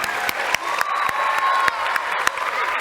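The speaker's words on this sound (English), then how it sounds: "Give them another round of applause." Camp audience applauding young performers at a show, a steady wash of clapping with a few sharp louder claps standing out, some cheering and voices mixed in.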